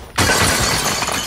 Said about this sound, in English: We're smashing pots.